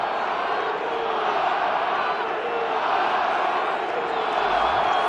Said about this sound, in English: several thousand 12th men and women cheering as the Seahawks win at home